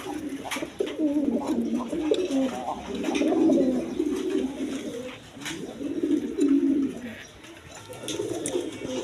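A pair of large, big-crested Bombay pigeons coo in repeated rolling bouts, close and fairly loud, the low throaty calls rising and falling over several seconds.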